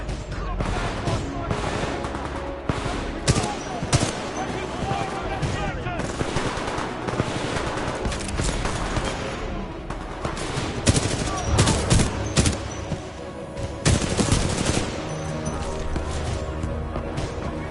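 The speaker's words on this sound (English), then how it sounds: "Commencing supporting fire." Heavy supporting fire in a video game, sustained volleys of gunshots and automatic bursts repeating across the whole stretch, loud and close, with voices speaking at times underneath.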